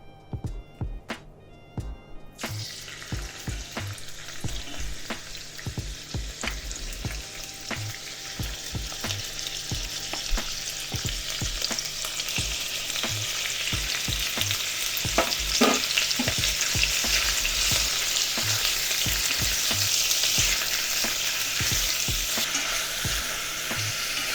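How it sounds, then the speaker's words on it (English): Pork belly hits hot oil in a pot for nikujaga, bursting into a loud, dense sizzle that builds and holds steady, with occasional knocks and stirring scrapes. "I heat some oil in the pot, and let's add the pork belly first"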